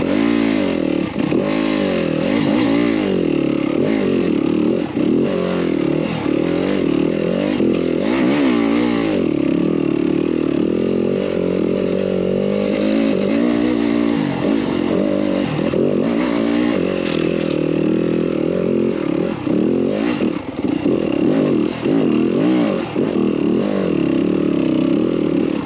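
A Yamaha YZ250FX dirt bike climbs a hill in first gear, its engine loud and close with a constant wavering drone that rises and falls as the throttle shifts, with scrapes and clatter from the terrain.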